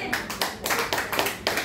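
A church congregation claps in praise, loud close hands striking in a quick uneven rhythm, about eight bursts across a brief stretch, with no speech over them.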